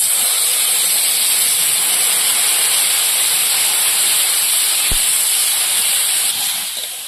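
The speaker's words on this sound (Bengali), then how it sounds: "কষানো হয়ে গেছে, এবার জল ঢেলে দেবো" Water poured into sizzling spiced curry in a pan during rustic village-style cooking, producing a loud, continuous hiss and steamy rush that holds steady, then eases off at the end.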